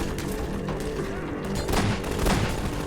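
Gunfire in the Half-Life 2 video game, dense bursts of shots and booms layered under game noise, loud and continuous with louder volleys toward the end.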